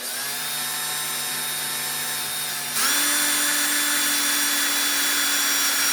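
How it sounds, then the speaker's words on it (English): A power drill fitted with an undersized number 7 bit bores holes in soft material for a Brown & Sharpe #9 holesaw adapter, a steady close whine that steps up in loudness and pitch partway through, with no talking. "I've got my drill bit in there, a little bit undersized. It's supposed to be number 7"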